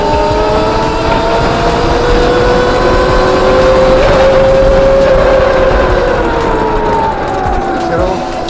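An Electric Motion Etrek electric motorcycle's motor whines with rising and falling tones during regenerative engine braking as it slows, heard steadily close by over road noise, no talking.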